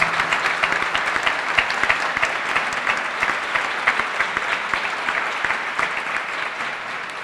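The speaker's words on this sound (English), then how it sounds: "Let's give once again a big round of applause to all of our educators who have helped during these disasters." Sustained applause from a ceremony audience honoring educators at a Teacher of the Year event, steady dense clapping from many hands that fills the room and tapers slightly at the end.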